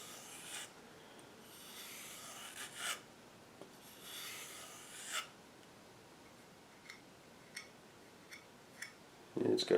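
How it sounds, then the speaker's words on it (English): A knife is drawn across the hone of a Lansky deluxe sharpening system in a few separate rasping strokes, close and fairly quiet, followed by several light ticks and clicks. "I just take the knife on the same degree as the angle of the bevel I just put on it, and I give it a couple strokes on each side"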